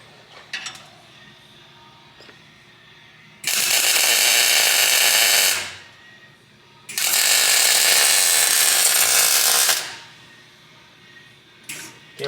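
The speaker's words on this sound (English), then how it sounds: "Screwing these fucking things together." A power tool drives screws to fasten parts together on a K-swapped Chevy S10, in two long, loud, sustained whirring bursts separated by quieter stretches with a few faint clicks.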